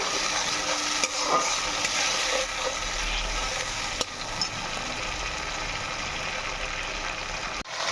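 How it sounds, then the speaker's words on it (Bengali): Whole garam masala and tomato paste frying and being stirred in a pan, a steady close sizzle with scraping stir sounds throughout, no talking. "গরম মশলা ফোড়ন দিয়ে দিচ্ছি, টমেটো পেস্টটা দিয়ে দিচ্ছি। টমেটোটা ভালো করে কষে নেব।"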